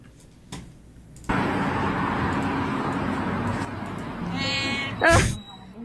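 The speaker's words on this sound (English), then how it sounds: "Why do they meow like that?" A cat meows over a steady rushing noise like traffic, with a short, sharp cry standing out near the end; a voice briefly murmurs.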